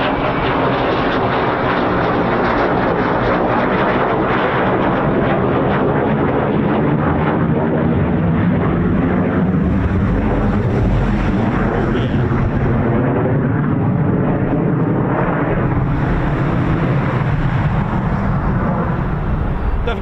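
A CV-22 Osprey military tiltrotor aircraft at an RAF airbase roars steadily and loudly throughout, a broad continuous engine and rotor rumble that holds strong for the whole stretch without pause.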